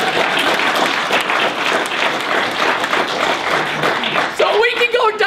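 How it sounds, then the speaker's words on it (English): A crowd at a political talk in River Falls, Wisconsin applauds steadily for several seconds, loud and dense, before a speaking voice cuts in near the end. "I think we should give our neighboring governors a round of applause."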